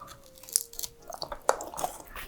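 Crisp crunching bites of a frozen candied sweet potato snack, close and quiet, a few sharp crackles spread among softer chewing.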